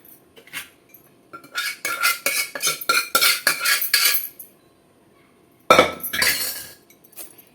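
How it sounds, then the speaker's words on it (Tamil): Cooked mutton and potatoes tipped from a metal vessel into a pan for Tamil mutton kulambu, a burst of clattering scrapes and clinks, a pause, then another short rattling pour. "இப்போது நம்ம வேக வச்சோம் இல்லையா மட்டன் உருளைக்கிழங்கு இதில் கொட்டிக்கிறேன்"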